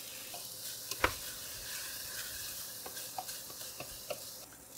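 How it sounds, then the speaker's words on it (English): Tomato paste roasting in a pot for goulash, a soft continuous sizzle and fry with occasional stirring scrapes and small clicks, fairly quiet and steady throughout. "Now we're gonna add a bunch of tomato paste. And we wanna roast that tomato paste for a little."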